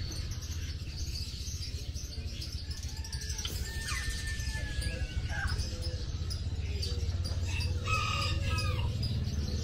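Chickens and birds at a crowded Indonesian animal market: a rooster crows, hens cluck and small birds chirp over a constant low murmur of market noise.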